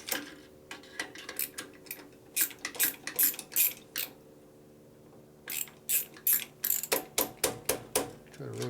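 Metal ratchet clicks and tool clatter while parts are loosened on a 1965 Harley-Davidson panhead 74ci FLH motor, heard as bursts of short, close ticking separated by quiet pauses.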